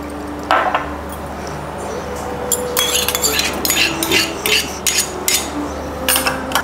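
Oregano, salt and tomato sauce being stirred in a bowl: repeated clinking and scraping of a spoon against the bowl in quick, uneven strokes, close and fairly loud over a low background hum.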